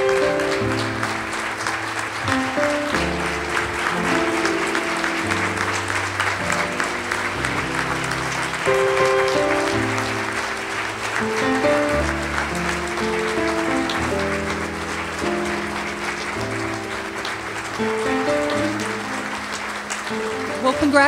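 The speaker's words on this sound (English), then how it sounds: "let's all give them a big round of applause" Sustained applause from an awards audience at the 4th Annual Heroes of Hospice Santa Barbara event as winners come up to the stage, many hands clapping steadily for about twenty seconds over music playing underneath.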